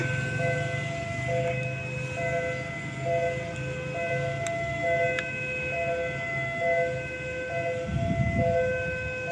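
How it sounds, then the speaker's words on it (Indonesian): A train passing through a level crossing at the Simpang 7 Joglo intersection, heard from a distance as a steady warning tone sounding in repeated on-off pulses over a continuous rumble, with a low rushing swell near the end. "Akan ada kereta melintas."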